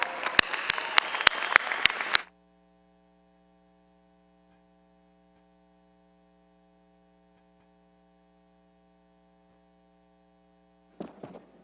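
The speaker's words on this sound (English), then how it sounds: "please give me a warm round of applause for all these people" Applause from a graduation commencement audience at a business school ceremony, a burst of clapping about two seconds long that stops sharply, leaving a steady electrical hum, then a brief second burst of clapping near the end.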